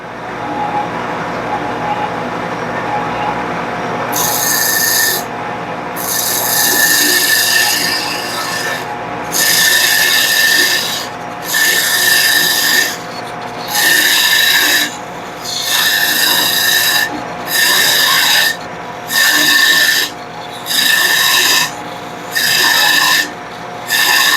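Wood spins on a lathe while a parting tool cuts a tenon, the steady motor hum broken by a series of loud rasping cutting passes in regular on-off strokes.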